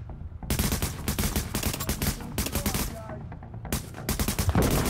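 Rapid gunfire from a third-person shooter, The Division, in a subway morgue: dense bursts of automatic shots rattle almost continuously, loud and close, with a brief lull midway before firing resumes.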